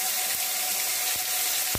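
Tomatoes frying in hot oil with whole spices (dried red chilli, bay leaf, cumin, cardamom, clove, cinnamon) for a fish-head moong dal, giving a steady, close sizzle with a few brief clinks and stirs.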